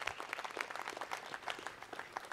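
A crowd applauds a woman called forward at a gathering, a faint, steady patter of many hands clapping from a distance with no voices over it.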